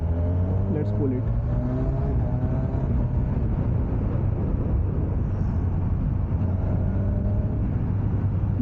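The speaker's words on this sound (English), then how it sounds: "even with the stock exhaust, it sounds good" A 2025 Kawasaki Ninja 1100SX with its stock exhaust runs with a steady, fairly loud engine drone and shifting tones while riding, as a voice talks over it.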